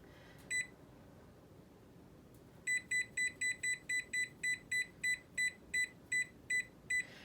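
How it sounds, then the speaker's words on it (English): A kitchen timer being set for baking bread: one short electronic beep, a pause, then a quick run of about a dozen evenly spaced, fairly loud beeps over a quiet room. "So we're going to set our timer."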